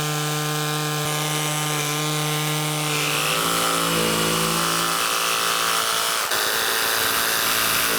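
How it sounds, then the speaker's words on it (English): Jigsaw cutting wood for Shaker-style cabinet doors: a loud, continuous power-tool buzz with shifting pitch that runs steadily through the whole stretch, alone without talk. "And I can cut these, the majority of it anyways. Jigsaw, and then I'll sand that off."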